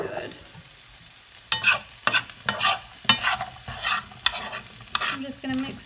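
Cauliflower stuffing is stirred and sautéed in a pan, with a series of irregular scraping spoon strokes over a steady close sizzle and no voices.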